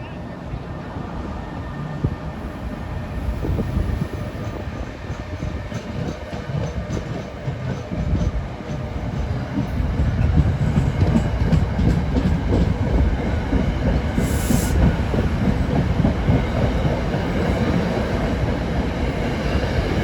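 An Amtrak train bound for Trenton rumbles past, its wheels clattering over rail joints as it slows for the stop at Elizabeth, New Jersey, building to a loud, sustained roar with brief squeals and a voice speaking over it.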